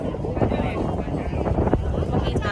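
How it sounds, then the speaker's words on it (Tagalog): Strong wind in Bohol, Philippines roars and buffets the microphone continuously, a dense, gusty rumble throughout with no pauses. "sobrang lakas talaga ng hangin dito"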